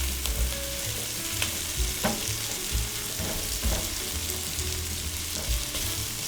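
Shrimp with coconut milk sizzling steadily in a frying pan while being stirred, a constant loud frying hiss broken by periodic scrapes and knocks of the utensil, close up with no voices.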